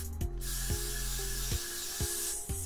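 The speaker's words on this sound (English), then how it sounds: "spraying along the root, and then before it dries" A long hissing spray of Got2b Glued hairspray along hair roots runs nearly continuously, broken by a few soft clicks or bumps, close to the mic.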